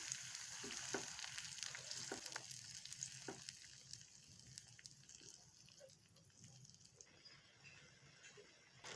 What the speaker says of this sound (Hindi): अब हम टमाटर के पेस्ट को प्याज के साथ अच्छी तरह से पका लेंगे